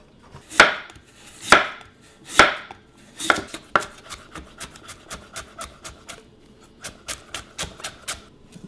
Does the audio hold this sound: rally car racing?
no